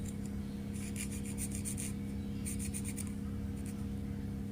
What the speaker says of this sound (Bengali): এর পাশে কিছু ফাঙ্গাস পড়ে গিয়েছে, এটাকে ঘষে উঠায় দিতে হবে